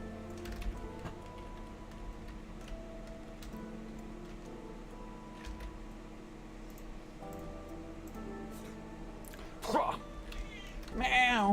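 A cat meows a couple of times near the end, close and clear, over a low steady background hum in an indoor space.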